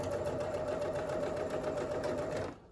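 A sewing machine restitches frayed linen on a summer halter maxi dress, a close, continuous motorized whir with quick repetitive needle ticks running evenly before cutting off near the end.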